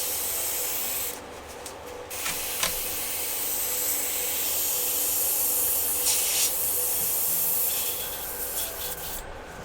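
Spray paint being applied to miniatures: a continuous close hiss of aerosol spraying with short breaks and a few clicks and taps, no voices.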